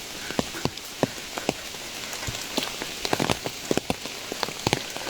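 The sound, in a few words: rain falling on mountain path in Qinling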